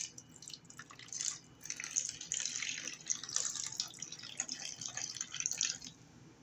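Coffee trickles and spatters steadily onto paper for several seconds, a close, continuous pour with small dripping splashes.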